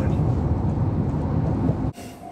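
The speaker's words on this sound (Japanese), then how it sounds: "電車に太宰府行きがある。" A Nishitetsu train bound for Dazaifu rumbles past nearby with a loud, steady low roar that cuts off abruptly near the end.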